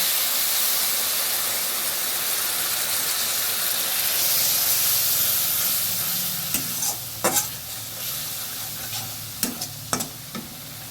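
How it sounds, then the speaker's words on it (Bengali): Water poured into a hot pan of Bhola fish curry with turmeric, a loud rushing hiss that slowly settles, followed by a few sharp scrapes and clinks of stirring near the end, close up. "এবার আর একটু জল দিয়ে দিচ্ছি"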